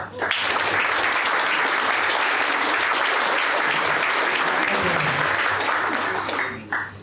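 Sustained audience applause fills a Rotary governor handover ceremony, dense and steady for several seconds before tapering off near the end.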